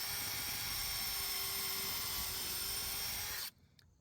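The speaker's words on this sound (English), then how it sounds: "Pre-drill our hole." A steady, high-pitched whirring drill pre-drills a hole, running continuously for about three and a half seconds, then cuts off abruptly into near silence.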